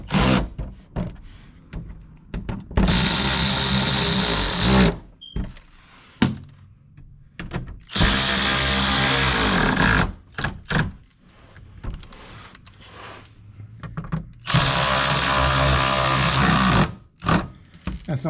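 Power tool tightening the oil drain and skid plate bolts on a 2018-2022 Toyota Camry 2.5L during an oil change, three loud sustained whirring bursts separated by short pauses and a few clunks.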